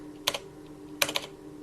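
Two short bursts of keystrokes on a computer keyboard, a few quick clicks each, close and fairly quiet over a faint steady hum, with no talking.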